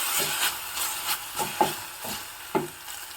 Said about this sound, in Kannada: ಟೊಮೊಟೊ ಎಲ್ಲ ಚೆನ್ನಾಗಿ ಬೇಯಬೇಕು ಹಾಗೆ ಬಾಡಿಸ್ಕೋಬೇಕು